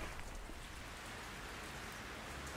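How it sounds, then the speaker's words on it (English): Gentle rain falls outdoors on a cold, roughly 10 °C day on a bicycle tour, as a faint, even, continuous hiss with no voices. "So we've got like 10 degrees Celsius, gentle rain"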